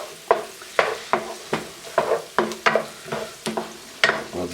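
Onions and garlic frying in a pan and stirred with a utensil in a steady rhythm of about a dozen scraping strokes over a constant sizzle, close and clear.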